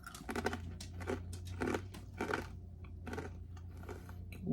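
Gluten-free pretzels are crunched up close, with repeated crisp bites and chewing crunches in an uneven rhythm over a low hum, no talk.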